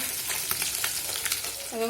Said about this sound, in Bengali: এই দেখো ফ্রেন্ড, মাছ ভাজছি।